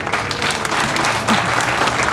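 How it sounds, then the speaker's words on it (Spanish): Loud, sustained applause from an audience at a parents' conference, dense clapping filling the whole stretch without pause. "Un fuerte aplauso para la maestra"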